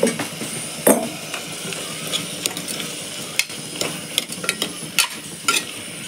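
Tomatoes sauté with a little salt in a pan, a soft sizzle beneath repeated scraping and stirring knocks from a spoon at an irregular rhythm.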